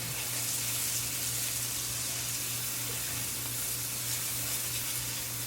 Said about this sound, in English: And now we have some dry thyme. Going in, stir that around.